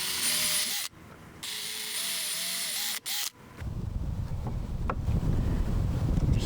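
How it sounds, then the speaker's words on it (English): A small power drill with a 1/16 inch bit whines in two short bursts, then stops, leaving rustling and handling noise close to the microphone. "Drill a couple holes."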